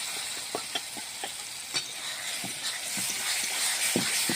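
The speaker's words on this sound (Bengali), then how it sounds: "এবার ভালো করে কষিয়ে নেব।" Spices for a mutton curry sauté in a hot pan, giving a steady hissing sizzle with a run of light rhythmic spoon taps and scrapes that stay fairly quiet.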